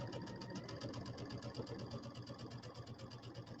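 A sewing machine stitches a scant quarter-inch seam while piecing a quilted table topper, a quiet, fast, even rapid-fire whirring clatter running continuously close by.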